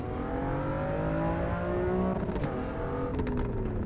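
A racing car engine in Assetto Corsa EVO whines steadily, then drops pitch through quick downshifts with crackling pops as the throttle lifts.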